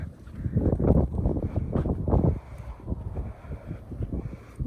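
Wind gusts buffet the microphone at a horse farm during a freezing winter storm, a loud, rough low roar that surges and eases, with someone speaking softly to the horses at times.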